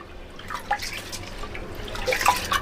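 Soaked rice being washed in water, soft close drips and sloshing splashes in short uneven bursts, quiet and without talk.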